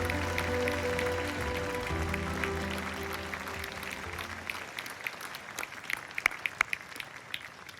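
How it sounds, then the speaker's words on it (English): Audience applause rings out for honorees at an award ceremony, sustained clapping that thins over several seconds into scattered, sharper individual claps as it dies away. "And one final round of applause to all of tonight's honorees."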